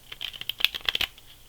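Large oracle cards being shuffled by hand, a quick cluster of papery flicks and slaps, close and moderately loud, with no talk.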